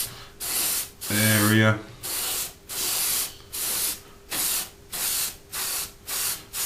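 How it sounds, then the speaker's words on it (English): Airbrush spraying paint onto a 1/72 Italeri Jaguar T2 model kit in short, regular bursts of close hiss with brief pauses between passes; someone speaks briefly over one burst. "we're just keeping it flat down and just spraying the top"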